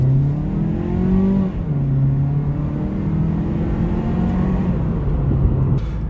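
A Mazda CX-3 urban crossover engine hums steadily while driving, with smooth low tonal drone and a slight pitch shift as it moves through revs, heard from inside with no talk.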